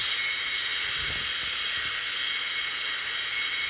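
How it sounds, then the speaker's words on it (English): A Boeing 757 TNT freighter jet taxis in within a flight simulator game, a steady broadband engine whine and hiss holding level throughout, with a few soft low thumps early on and no voices. "I have the 757 freight TNT also pulling in"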